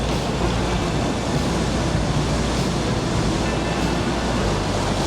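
Ocean waves splash over rocks along a shoreline in a steady, dense roar that stays close and loud throughout, with no talking.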